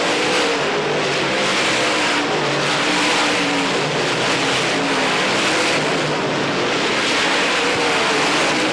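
Dirt-track race cars at Pennsboro Speedway during the 1990 Hillbilly 100 roar past in a loud, continuous wash of engine noise, with no talk over it.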